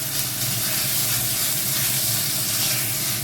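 Garlic and leftover vegetables sizzle in a pan while being stirred, a loud, dense, continuous hiss that holds steady throughout with no talking.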